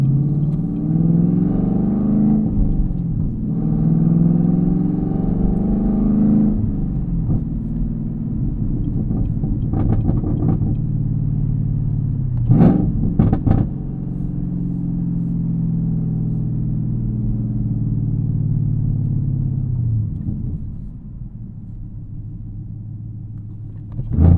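A 2022 Chevy Camaro ZL1 engine drones and rumbles steadily from inside the cabin during a night drive, rising and falling with the throttle, with a couple of brief clicks and no talking.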